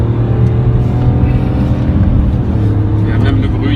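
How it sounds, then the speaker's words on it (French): A BMW X5 engine rumbles loudly and continuously from inside the cabin, a deep, throaty V8-like growl holding steady through the short stretch. "Il y a même le bruit qui devient très rock et très, on dirait un V8."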